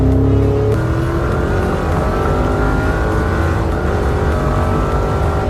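A Porsche Cayenne Turbo GT SUV engine runs with a steady, loud mechanical drone and sustained tonal hum, holding a fairly constant pitch throughout without speech over it.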